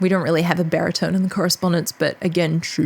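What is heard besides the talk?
No everyday noises stand out.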